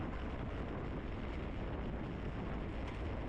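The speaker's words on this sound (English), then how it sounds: "it's definitely a windy day" Steady wind roars across the microphone on a blustery day at a women's bicycle road race, a constant broadband rush with no breaks and no voices.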